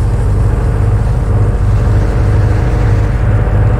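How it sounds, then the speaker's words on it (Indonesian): A car engine drones steadily inside the horror game The Radio Station, a loud, even low rumble with a slight pulsing rhythm and no voices over it. "Kegedean suara mobil ya?"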